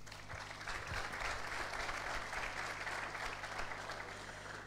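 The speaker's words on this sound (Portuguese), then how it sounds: "vai receber uma salva de palmas" Audience applause at a football club squad presentation as a doctor stands to be recognized, a steady wash of clapping from a moderately distant crowd for a few seconds.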